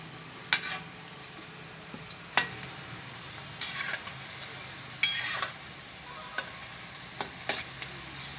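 Sev rolls frying in hot oil: a faint, steady sizzle runs throughout, broken by scattered small clicks and taps from stirring, with no talking.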